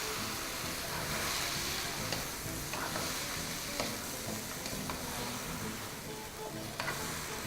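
Garlic lamb ribs dressed with lemon juice sizzle in a pan while being stirred, a steady moderate frying hiss with occasional scrapes and small clicks, no talking.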